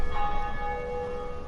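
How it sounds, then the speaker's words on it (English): A church-style bell rings out steadily with long sustained tones in Dark Souls Remastered, sounding as another player rings it in their own world, moderately loud with no speech over it. "every time I hear this bell ringing, it's another player in their own world ringing the bell"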